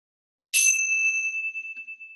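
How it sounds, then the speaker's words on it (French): One strike of a gong during a guided meditation session, a bright metallic ring that starts suddenly after a moment of silence and slowly fades out, with no voices. "écoutez le son du gong"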